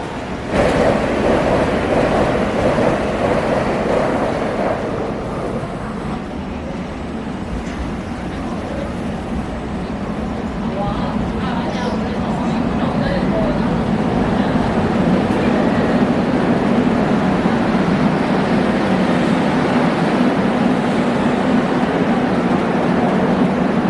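An ITX train runs through a Seoul station in a long, loud, sustained roar, with a dip in intensity partway through before the wheel noise builds again and holds to the end.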